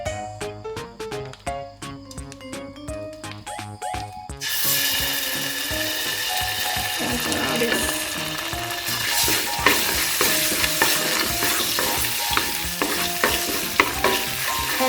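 Korean black bean paste hits an oiled hot pan and fries with a loud, dense sizzle, preceded by a few seconds of clinking and scraping utensil sounds.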